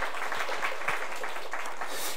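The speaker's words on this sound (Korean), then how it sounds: "박수 한번." Congregation applauding in a church service, a broad steady wash of clapping from many hands, fairly faint and continuous with no talk over it.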